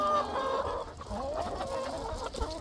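Hens in a backyard coop cluck steadily and close up, a busy overlapping chatter with no voices present.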